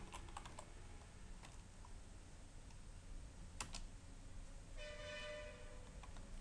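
Commands are typed on a computer keyboard in a quiet room, with scattered close key clicks in short bursts and a faint background hum.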